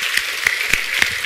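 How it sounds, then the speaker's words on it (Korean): A church congregation at Sunday worship claps to welcome a guest speaker, a steady wash of many hands with a few sharper individual claps standing out, moderately close, with no talking over it. "우리 박수로 환영합시다."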